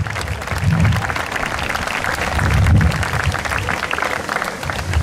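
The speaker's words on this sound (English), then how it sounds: "another round of applause?" An audience at a 2016 high school graduation ceremony claps steadily, a dense wash of applause that swells and eases a little over a few seconds.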